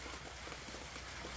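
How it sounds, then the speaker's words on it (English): Steady, faint rain patters on a surface in a quiet outdoor setting, forming a soft continuous hiss with no voices. "Because it's raining."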